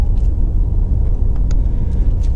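Inside a BMW i8 driving in electric mode on a track, there is only a low steady rumble of road and cabin noise, with no engine sound.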